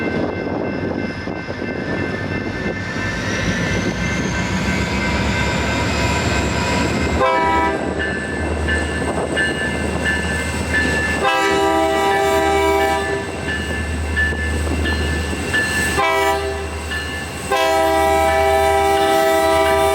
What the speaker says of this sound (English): we have a BNSF trimmer train with a pair of SD40-2s leading the way